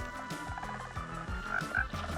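Frogs croak in Minecraft in a rapid, steady series of low, throaty calls over a continuous game background, close and moderately loud with no talking.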